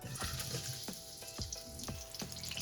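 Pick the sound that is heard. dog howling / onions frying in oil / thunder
onions frying in oil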